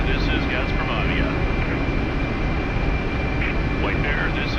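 A Mi-8MTV2 helicopter in the flight simulator DCS flies on approach in an Arctic setting, its steady loud engine and rotor roar continuous throughout with faint radio chatter tones over it.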